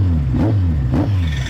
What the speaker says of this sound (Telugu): ఫస్ట్ ఎగ్జాస్ట్ నోట్ వినండి